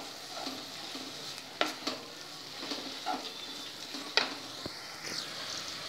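Cabbage with tomato puree being stirred in a frying pan, a soft continuous sizzle broken by several sharp scrapes and clinks of a spoon against the pan, close and moderately quiet, no talking.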